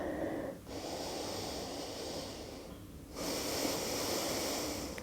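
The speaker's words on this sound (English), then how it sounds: "Take one more breath here." A person breathing during a floor-based yoga pose: long, audible breaths through the nose, two slow cycles close to the microphone with brief pauses between.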